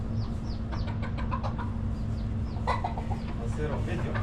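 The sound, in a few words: baby chicks clucking at a mountain hotel farm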